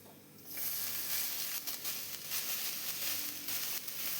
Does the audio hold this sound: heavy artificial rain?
no